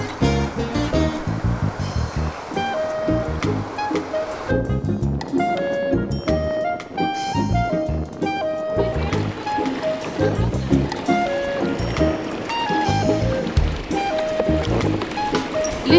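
Sea kayaks paddling through small waves around a peninsula in New Caledonia, with water splashing and surf throughout, largely covered by music playing over it.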